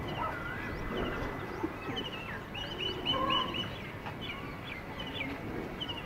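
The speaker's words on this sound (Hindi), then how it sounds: "दूसरी तरफ यहां खूबसूरत से परिंदे चहचहाते आपको जो है वो ऑडियो में महसूस हो रहे होंगे।" Birds calling around a rural wheat field at harvest time, a scatter of short chirps and honking fowl-like cries at middle distance over a steady open-air background, with no speech.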